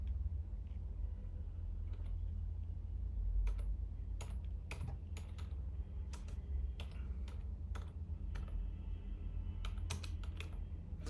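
Fast, irregular clatter of computer keys being typed on at close range, bursts of clicks with brief pauses over a steady low background hum.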